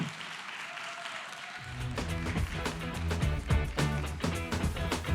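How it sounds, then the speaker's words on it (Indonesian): Seminar audience at a stage talk on paternity leave breaks into sustained clapping after a quiet start, dense and steady applause filling the room for several seconds, with music underneath. "Kita beri tepuk tangan yang meriah untuk Christy Nelwan."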